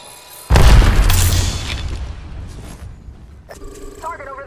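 Arc Star grenade in Apex Legends going off as a single loud, close boom with a sharp onset, decaying into a rumbling tail, followed by a brief electronic chime.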